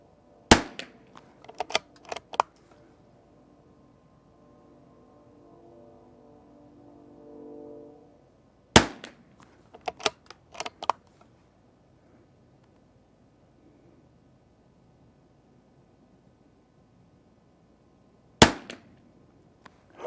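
Sharp .22 rimfire rifle shots from a Christensen Arms Ranger22 and a CZ455 ring out outdoors, close and loud, in a few quick clusters of cracks separated by long quiet gaps, ending with a final lone shot.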